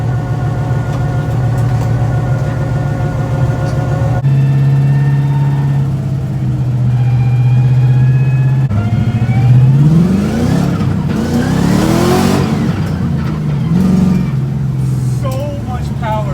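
An LS V8-swapped FRS doing a burnout: the engine idles with a deep burble, then revs hard in loud rising and falling sweeps, with a rough, throaty roar at the peak.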